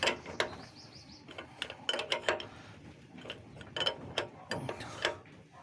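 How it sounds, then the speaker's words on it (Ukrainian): A size 30 wrench being turned to press a flywheel seal into a John Deere 955 tractor engine, giving irregular metallic clicks and clanks, close and fairly loud, with no talk. "Крутю на 30 ключ, трошки помилився."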